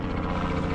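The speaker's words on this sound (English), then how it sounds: "Helicopter." A helicopter passes overhead during a wilderness hike, its rotor throb a steady, loud, continuous drone with dense low-frequency beating across the short moment.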